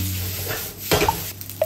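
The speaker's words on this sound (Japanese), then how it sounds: "ある程度炒めたらフライパンを振って塩も振って" Fried rice stir-fried in an iron frying pan kept over the flame, with a steady soft sizzle and scraping stir strokes, a few louder clanks of the pan partway through and near the end.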